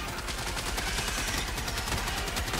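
Rapid, continuous gunfire from the Helldivers 2 battlefield hammers away in a dense stream of overlapping shots, loud and unbroken throughout.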